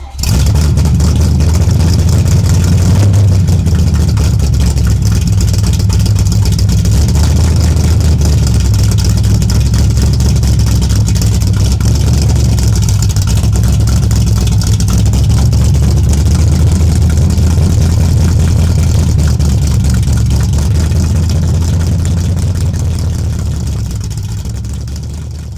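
A big V8 engine in a 1957 Chevrolet idles loudly and steadily nearby, its deep rumble holding for the whole stretch with occasional swells as it revs.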